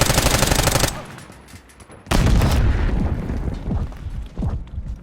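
A grenade blasts in a Black Ops 6 match amid loud bursts of automatic gunfire, a heavy boom landing after a short lull and followed by scattered shots fading off.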